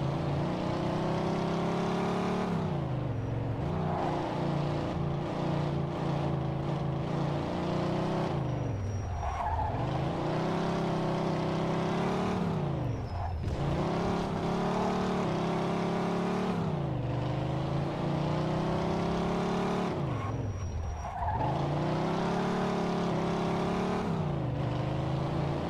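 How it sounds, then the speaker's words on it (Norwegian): A car in Mafia 2 is driven hard with a revving engine and repeated tire squeals through turns, loud and continuous, the revs swelling and dropping in long cycles with no voices. "Det er deilig lyd på den bilen her også."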